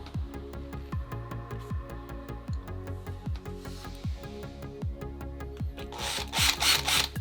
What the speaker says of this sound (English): The drilling machine smells a little bit burnt.